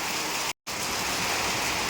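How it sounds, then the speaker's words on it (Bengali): Heavy rain drumming steadily on a tin roof, a dense continuous hiss broken only by a brief dropout, with no voices. "টিনের মধ্যে টপ টপ টপ করে বৃষ্টিগুলো পড়ে"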